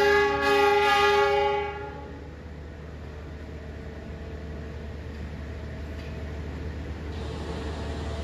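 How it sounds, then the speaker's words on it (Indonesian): A locomotive being shunted between tracks at a station sounds a loud, sustained horn blast that cuts off after about two seconds, leaving a steady low engine rumble and distant rail noise for the rest. "Nah itu di sana lokomotifnya masih dilangsir, dipindah jalur."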